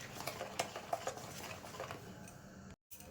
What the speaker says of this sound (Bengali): অনবরত আমি ফেটিয়ে নেব কিছুক্ষণ